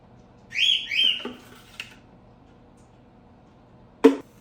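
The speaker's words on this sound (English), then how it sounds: "Excuse my bird, he likes to cheep in the morning" Pet bird cheeping indoors in the morning, two bright whistled chirps close together, then a faint brief call and a sharp click later, with quiet room tone between.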